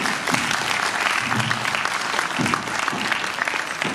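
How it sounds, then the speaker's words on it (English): An auditorium audience at a Hindu College discussion event applauds its guests. Dense, steady clapping from many hands holds at an even level for several seconds, with no voices over it. "A huge round of applause for our guests."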